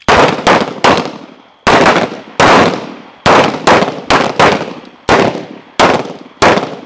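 Handgun shots fired at night in firearms training, a dozen loud, sharp reports in quick pairs and short bursts, each with a fast-decaying echo, and no voices between them.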